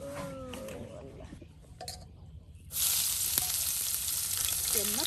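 Food frying in a pan over an open fire in a village kitchen, a loud steady sizzle that bursts in partway through after quieter moments with a voice speaking.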